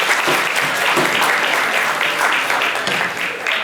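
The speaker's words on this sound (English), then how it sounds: "Give them a round of applause, please." Audience applause at an indoor kindness event, dense sustained clapping from a sizable crowd holding steady throughout without speech.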